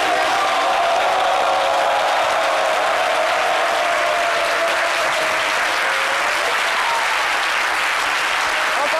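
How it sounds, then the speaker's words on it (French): Sustained audience applause for a departing guest, a world champion, on a French TV show, dense and steady throughout, with a faint voice under the clapping. "on va vous dire au revoir avec des applaudissements"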